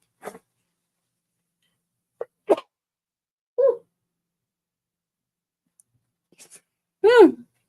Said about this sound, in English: There must be some dust in this room. I am sneezing.